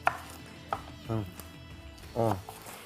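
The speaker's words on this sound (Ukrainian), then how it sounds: "зараз я доріжу огірочків" A knife chops cucumber on a cutting board in a kitchen, a few sharp irregular chops close by, quiet, with no talking.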